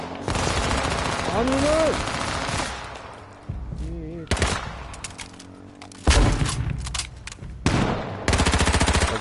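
Rapid machine-gun fire in H1Z1 Battle Royale rattles in loud bursts broken by pauses, with a shouting voice briefly heard between volleys.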